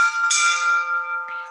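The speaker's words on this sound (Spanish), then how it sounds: "Esto sería afuera cómo queda la campana." A church bell rings out with a bright struck tone and long sustained hum, played back from a recording of the bell heard from outside, with a second fainter strike near the end and no talking.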